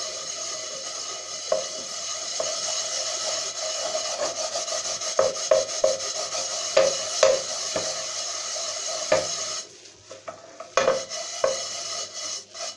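A pressure cooker's inside is scrubbed with coarse salt, giving steady gritty rubbing strokes, close and fairly loud, with sharper scraping accents throughout and a brief quieter gap near the end.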